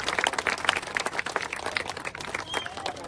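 A crowd applauding at a motivational speech in Uttar Pradesh, dense rapid clapping that swells and stays full throughout, with no one speaking over it.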